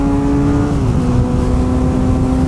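A Kawasaki ZX6R motorcycle engine drones loudly at high, steady revs while riding on a race track, with a sustained whine and a slight pitch dip, close and continuous.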